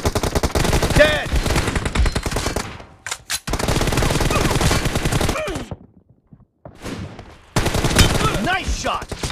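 Gunfire in a mobile shooter game on a low-end Realme 5 Pro, with dense automatic bursts broken by brief silent gaps, loud and close, and voices calling out in between.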